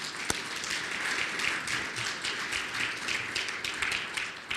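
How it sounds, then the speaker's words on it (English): A small audience at a city council legislative event claps softly and steadily for several seconds. The applause sounds moderately distant, with no speech over it. "Let's give them a round of applause."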